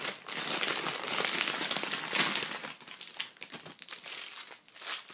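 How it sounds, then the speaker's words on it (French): Brushes being unwrapped from crinkly plastic packaging, a continuous loud crackling and crumpling with short bursts and dips throughout, heard alone with no talking. "j'ai changé l'emballage pour pas faire trop de bruit"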